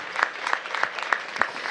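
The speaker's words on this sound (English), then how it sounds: "Give her a big round of applause." Audience applause at a mayoral appointments announcement by Mayor Bowser, heard as short separate claps spaced through a brief, moderate-level burst rather than a dense ovation.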